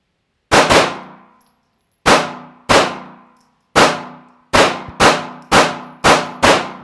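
A handgun fires live rounds at an outdoor range: eight loud, sharp cracks, the first few spaced out and the later ones in a quicker, regular string, each with a short ringing decay.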